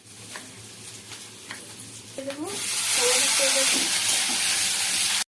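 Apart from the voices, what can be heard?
onion frying in oil in a wok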